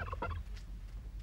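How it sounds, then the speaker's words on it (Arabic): A turkey gobbles in a quick, rattling burst, fairly close and moderately loud, followed by quieter background noise from a domestic scene in a television drama. "قصدك على صوت الديك الرومي؟"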